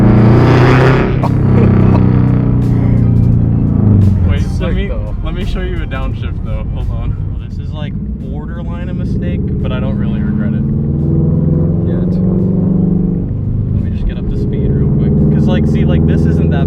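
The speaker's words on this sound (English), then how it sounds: "this isn't that bad driving. It's just very Subaru rumbly" Subaru BRZ fitted with a JDL UEL header, front pipe and Tomei 80R exhaust gives a deep, steady low rumble while cruising, close and loud throughout, with a person talking over it nearly the whole time.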